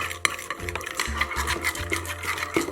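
A red slime mixture being stirred in a bowl, with a steady run of wet, scraping strokes close up and no talking.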